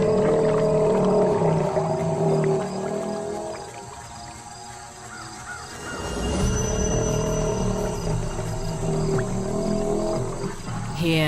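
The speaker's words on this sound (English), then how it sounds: "A prehistoric sound signals a male alligator's claim to mate." A male alligator bellows in the Blackwater swamp of the Deep South in April: deep, resonant, drawn-out roars that fade mid-way, then swell again, with faint insect buzz behind.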